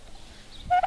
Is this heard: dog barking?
no